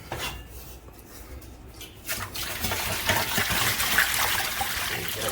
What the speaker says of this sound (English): Let me take the water out.